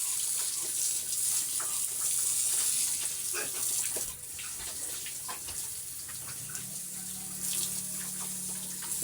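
Water runs and splashes steadily while a pet pig is bathed, a close, continuous gush that softens partway through and then carries on.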